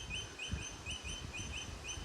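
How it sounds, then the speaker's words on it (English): Bird song heard outdoors in the afternoon at a home in Roleystone, a repeated chirping call recurring in steady phrases, faint and distant over quiet background noise, with no talking. "That's an actual bird too. I didn't use sound effects for that."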